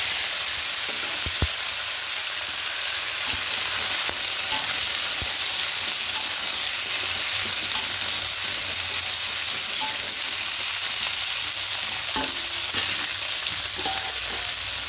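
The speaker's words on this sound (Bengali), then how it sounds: "কাঁচা লঙ্কা দিলে খুব ফুটবে" Green chillies and vegetables frying with panch phoron in hot oil for a red spinach ghonto, a steady loud sizzle and crackle running throughout with occasional stirring clinks and pops.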